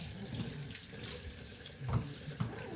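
Tap water runs steadily into a sink while a dog is rinsed during a home bath, with a continuous close splash and brief surges where the flow hits fur or the basin; no one speaks.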